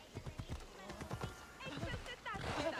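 Horse hooves clip-clopping on city streets in the video game Assassin's Creed Odyssey, a steady close rhythmic clatter under a voice.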